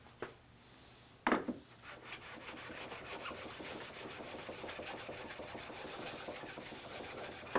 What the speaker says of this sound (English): when a stone comes on here, it sharpens it at that exact angle